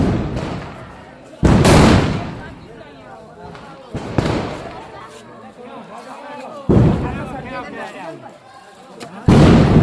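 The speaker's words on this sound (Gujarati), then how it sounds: "ફટાકડા ફૂટવાનું તો ચાલુ થઈ ગયું હતું." Diwali firecrackers burst in several loud, sharp blasts spaced a few seconds apart, each trailing into crackling and rumbling, while voices chatter underneath.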